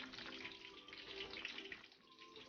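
Cooked spaghetti drained of its excess water, a steady rushing pour of water running throughout, moderately faint and close.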